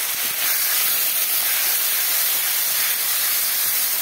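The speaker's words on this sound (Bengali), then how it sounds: "একটু মশলায় একটু জল দিয়ে দেবো।" Steady bright sizzle and hiss as water hits masala frying in hot oil in a pan, continuous and close for the whole stretch with no talking.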